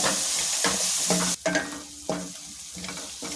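Potatoes frying with turmeric in a pan for aloo fry, with loud steady sizzling broken by repeated stirring scrapes about every half second, close up and with no talk.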